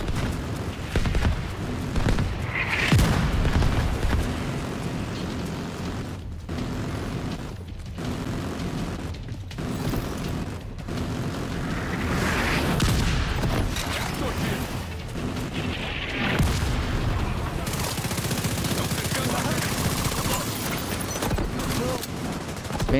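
Automatic cannon firing blindly through smoke in The Division 2: continuous rattling bursts and booming impacts over about twenty seconds, with brief gaps between volleys and a voice talking at times.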